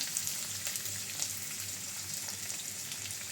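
Food sizzles and crackles steadily in a hot pan, a soft continuous frying hiss with light irregular pops.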